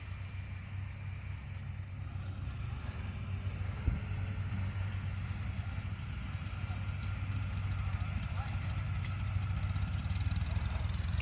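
A small tractor's steady, low engine rumble idles continuously at moderate distance during hay raking and baling, with no talk over it.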